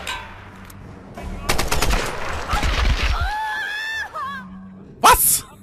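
Rapid automatic gunfire from enemies in Tomb Raider, several fast bursts close by, followed by a pained cry and a sharp vocal shout near the end.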